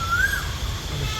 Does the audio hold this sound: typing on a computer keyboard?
no